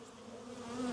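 Honey bees at work building honeycomb in a newly installed package hive, giving a steady, close buzzing drone that swells slightly louder toward the end.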